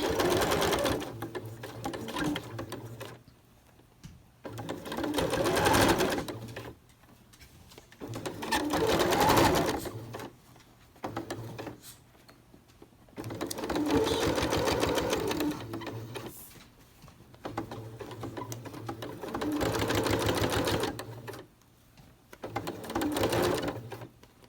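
A sewing machine stitches a cloth mask with a replaceable filter pocket, running in about five distinct whirring bursts of several seconds each, separated by short quiet pauses, loud and close with no talk over it.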